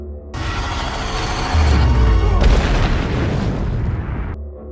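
A loud explosion in an action film destroys a predator creature, a heavy low boom swelling into a sustained roaring blast and rumble that fades over several seconds.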